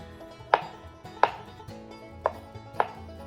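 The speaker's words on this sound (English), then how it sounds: "we're going to go ahead and chop this nice and fine" A knife chops a boiled egg finely on a cutting board for egg potato salad, giving four sharp, evenly spaced taps, close and distinct against a quiet background.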